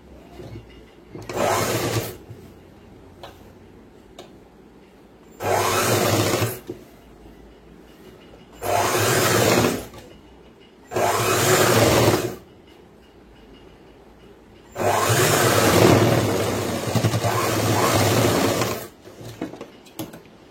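A sewing machine stitches a boys' school uniform pant in five close, loud bursts of rapid running, each lasting one to three seconds with quiet pauses between, the final run the longest.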